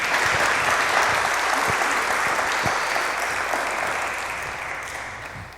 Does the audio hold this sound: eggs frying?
no